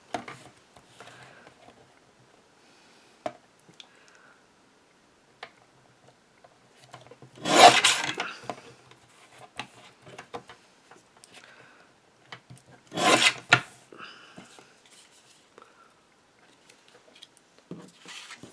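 Paper being trimmed for a handmade card, quiet scraping and rubbing with two louder bursts of cutting, otherwise mostly silence.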